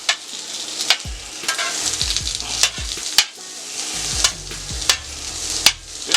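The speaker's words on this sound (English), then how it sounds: "On this back eye back here, we're going to put my onions and red peppers back here." Onions and red peppers sizzling loudly on a steel griddle for an Italian sausage and peppers burger, a continuous close hiss broken by sharp spatula scrapes and taps.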